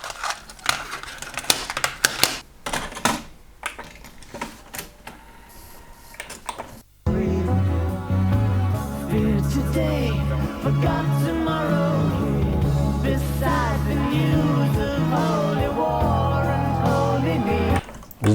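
Music played back from old audio cassettes, including Maxell, TDK, SNC and BASF tapes from 1982 to 1996. Several seconds of clicks and handling noise come first, then full, steady music plays loudly to the end.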